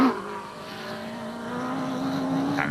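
A rally car at the African Heritage 2006 event speeds through a water crossing on the route, its engine holding a steady, close, rising drone with a brief splash-like burst near the end.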